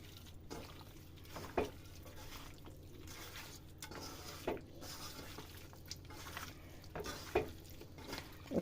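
Raw beef worked by hand with spices and mustard oil in a bowl, giving soft, wet squelching and slapping sounds in an irregular rhythm, close up and fairly quiet, with a few sharper squishes.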